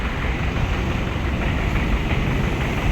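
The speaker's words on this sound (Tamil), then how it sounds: "இங்கே ட்ரெயின் போகிறத" Train rolling past at a station area in Kuala Lumpur, a short consist of five or six carriages, heard as a steady, loud, continuous rumble with wheel noise and no talking.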